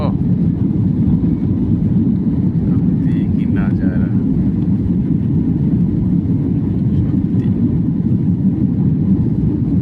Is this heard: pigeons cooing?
no